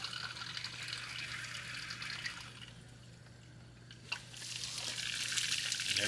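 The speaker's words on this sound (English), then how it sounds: "You can hear it filling up." A new RV water filter fills with water after being twisted onto its fitting, giving a steady soft hiss and trickle with a faint low hum running underneath, rising slightly toward the end.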